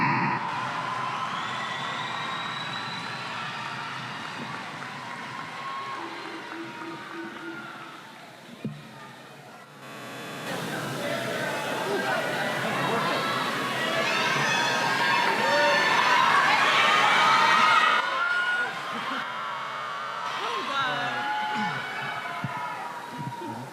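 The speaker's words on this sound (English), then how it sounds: "Give the class of 2019 a big, huge round of applause." A high school commencement crowd cheers and applauds the class of 2019, a broad roar swelling in the middle stretch, with an announcer's voice heard before and after.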